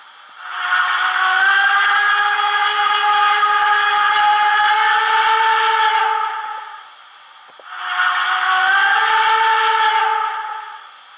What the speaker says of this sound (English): long whistle, and then I'll do short whistle.